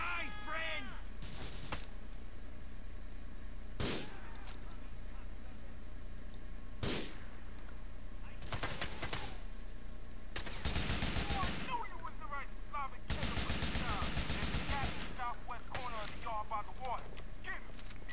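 Gunfire in Grand Theft Auto IV rings out in sharp single shots and longer rattling bursts, loud and close, with someone talking between some of the volleys.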